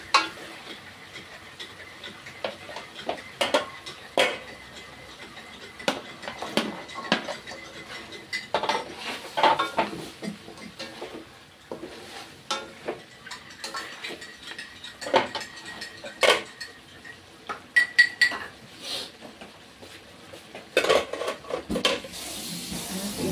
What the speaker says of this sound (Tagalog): ilagay na natin itong carrots